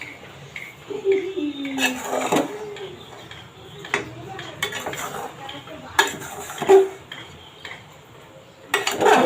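Khichuri being stirred in a pot at home: a spoon scrapes and knocks against the metal in scattered bursts, with clinks of utensils and faint background noise between strokes, no talking.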